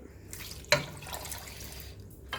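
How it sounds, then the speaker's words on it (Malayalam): Water poured from a cup into a pot of pumpkin curry, a short quiet splash with a sharper burst near the start and faint trickling after, no voices. "ഇനി നമുക്കിതിലോട്ട് വെള്ളം ചേർക്കണം."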